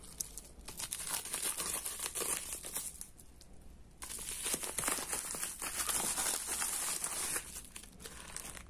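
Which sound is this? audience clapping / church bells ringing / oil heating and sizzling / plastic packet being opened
plastic packet being opened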